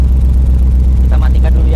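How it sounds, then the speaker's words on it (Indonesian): Engine of a tubular offroad racing car running steadily, a loud low rumble throughout with a brief higher whine or voices near the end. "Suara di belakang pun mesinnya nggak mengganggu."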